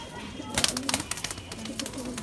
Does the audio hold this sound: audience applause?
no